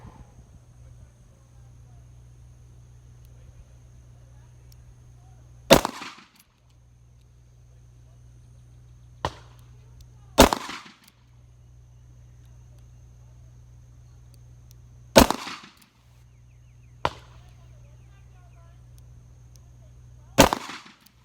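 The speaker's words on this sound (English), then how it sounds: "I'm going to shoot 2 5-shot groups." Ruger LCRx .38 Special revolver with a 3-inch barrel fired outdoors with wadcutter and defensive rounds, sharp loud cracks spaced a few seconds apart, five shots in all with fainter echoes, over a low steady hum and quiet pauses between.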